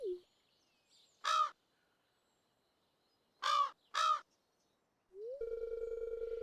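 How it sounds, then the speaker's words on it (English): Crows cawing in the Stardew Valley Expanded game: one loud caw, then two more in quick succession, clear against near silence, followed by a steady electronic ringing tone. "Darn crows."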